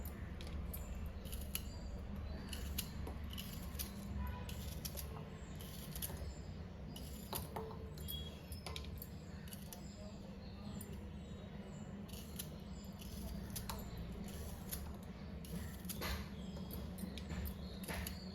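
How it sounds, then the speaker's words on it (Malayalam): A knife slices bilimbi (irumban puli) fruit into small pieces, giving a run of crisp, fairly close cutting clicks over a steady low background hum, with no talking. "നമുക്കിത് ഇങ്ങനെ കഷ്ണങ്ങളാക്കി ഇട്ട് കൊടുക്കാം"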